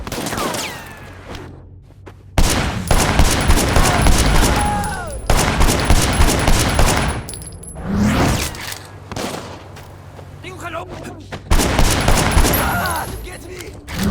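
Loud bursts of gunfire in Sleeping Dogs, rapid volleys of shots in several clusters separated by short pauses, close and sharp, with some voices in between.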